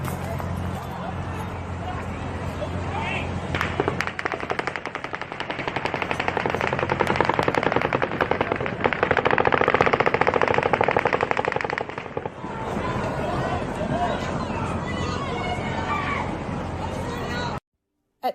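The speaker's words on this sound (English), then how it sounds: "At 10:07 and 50 seconds, the 4th volley of automatic gunfire begins." A sustained volley of automatic gunfire in recorded footage from a mass shooting near Mandalay Bay, rapid continuous bursts that swell louder mid-volley with crowd noise and distant commotion underneath.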